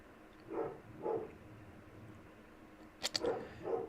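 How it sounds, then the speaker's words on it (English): A dog in another room barks in short bursts, about five sharp barks spaced irregularly, muffled and moderately distant over a quiet background hum. "Damn, my dog is going nuts over there."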